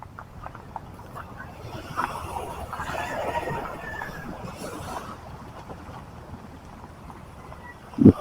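A small fishing boat passes on open water, its motor a faint, steady drone under wind and distant voices, swelling slightly in the middle before fading.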